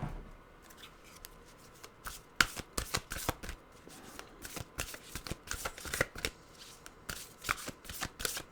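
An oracle card deck is shuffled by hand, with crisp riffling and slapping bursts repeating irregularly for several seconds. The sound is close and fairly quiet, and no one speaks.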